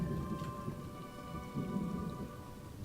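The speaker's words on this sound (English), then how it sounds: "Oh, listen to the thunder." Steady rain pours throughout a stormy scene in the video game ESO: Summerset, with a low rumble of thunder rolling in partway through, all fairly close and without any talking.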